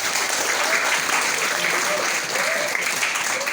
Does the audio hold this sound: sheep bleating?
no